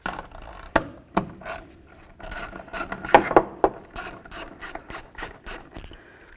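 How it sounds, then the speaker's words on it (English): A ratchet loosens the air intake hose clamp on a 2007-14 Cadillac Escalade during a throttle body swap, giving close, loud bursts of rapid clicking in uneven strokes with short pauses between them. "We're going to loosen this up so that the clamp will come loose and we can take the hose off of this."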